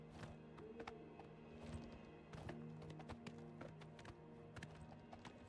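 Hooves of a horse in the video game Oblivion Remastered, a steady clip-clop of repeated sharp taps over a low game soundtrack hum, moderately near and alone without talk.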